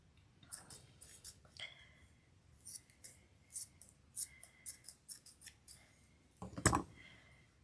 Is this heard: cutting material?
yes